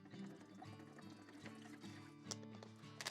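Water poured for mixing a concrete slurry for a hollow-spot masonry repair, a steady close pour with a few brief splashes and knocks near the end.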